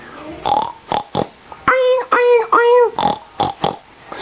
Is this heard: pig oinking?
yes